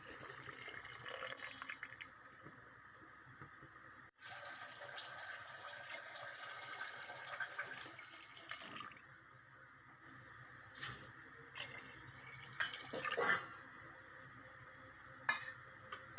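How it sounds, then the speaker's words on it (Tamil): Two litres of water poured into a cooking pot of rice for Ramadan nonbu kanji, a close splashing gush that pauses and resumes, ending in a few clinks and stirring noises. "2 லிட்டர் தண்ணி சேர்த்துக்கிறேன்."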